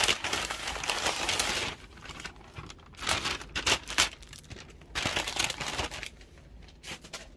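Paper envelope packaging sealed with a matte black sticker is torn open and handled, giving close, quiet crinkling and rustling in short bursts with brief pauses between.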